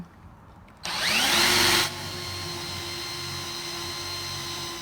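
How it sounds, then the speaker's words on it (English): A drill with a half-inch bit whines up sharply and bores through wood for about a second, then drops to a steady lower hum as it keeps spinning freely. "we're going to drill this out with a 1/2 inch bit"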